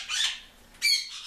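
A pet bird lets out two loud, harsh squawks close up with a short pause between them. No one talks over them.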